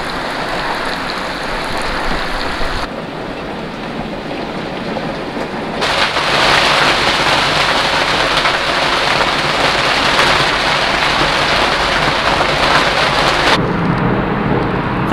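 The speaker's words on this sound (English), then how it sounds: "Yeah, that's rain." Heavy rain drums steadily on a narrowboat moored by a motorway, a dense broadband roar that surges louder partway through and stays strong, with no talking.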